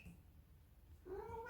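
A pet cat named Pifly meows once near the end, a short rising call with clear harmonics after a quiet stretch with low background rumble.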